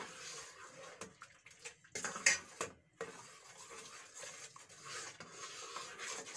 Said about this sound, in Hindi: अब इसके अंदर डाल के मैं इसको जल्दी जल्दी चलाती रहूँगी